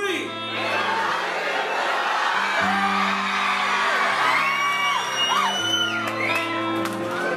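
A live concert audience at a hotel show whooping, yelling and screaming together in a loud sustained roar, with music chords playing underneath.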